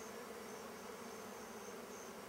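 Honeybees buzzing in and around an open top bar hive, a dense, steady, continuous hum of many wings close by with no voices.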